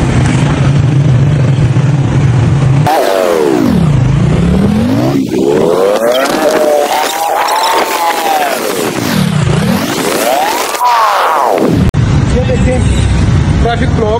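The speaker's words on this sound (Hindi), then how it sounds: "ट्रैफिक ब्लॉक है सारी की सारी" Car and motorbike engines in a blocked road in Pakistan rev and pass close by in loud, sweeping rises and falls of pitch, over a continuous roadway roar with faint voices mixed in.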